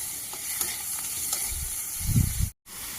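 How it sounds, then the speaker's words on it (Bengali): Potatoes sauté in a pan with onion, chili, and ginger and garlic paste, giving a steady close sizzle. Low thumps from stirring rise near the end before the sound cuts out briefly. "এই মশলা দিয়ে আলুটাকে সুন্দর করে কষানো"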